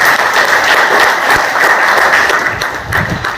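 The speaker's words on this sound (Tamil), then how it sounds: "Please give a big clap to our sister" An audience at a Republic Day celebration held by an ex-servicemen's association in Kanyakumari breaks into loud, sustained applause, many hands clapping together in a dense, continuous wash from start to finish.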